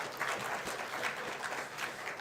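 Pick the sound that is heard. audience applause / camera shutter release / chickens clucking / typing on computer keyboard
audience applause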